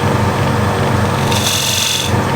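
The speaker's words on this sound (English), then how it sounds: "Nice shear scrape from this side." A woodturning tool shear-scrapes a wooden bead bowl on a lathe, giving a steady, close, loud rasping scrape that runs continuously, with a brighter hissing edge in the latter part.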